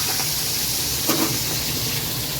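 Katla fish frying in a pan of hot oil, giving a steady, even sizzle with no pauses and no voices.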